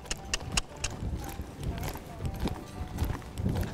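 A young horse ridden on a ranch gallops off, its hooves thudding in a quick, uneven rhythm at close range, mixed with faint rustling and a voice talking under it.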